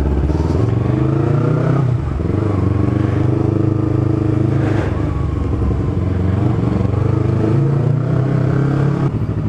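A dirty Yamaha motorcycle, an R25 or MT25 sport bike, with its engine running loud and close, a steady throbbing idle rising in a few brief revs with light clatter.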